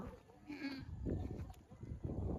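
Goat bleats with wavering tones, several calls overlapping amid a noisy farmyard background, fairly close and moderately loud.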